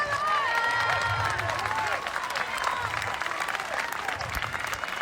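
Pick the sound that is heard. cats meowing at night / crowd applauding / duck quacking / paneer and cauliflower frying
crowd applauding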